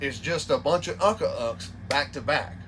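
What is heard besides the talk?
No distinct noise like a dog, phone or traffic.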